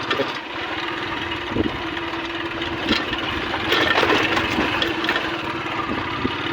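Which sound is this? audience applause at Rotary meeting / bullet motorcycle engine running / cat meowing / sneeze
bullet motorcycle engine running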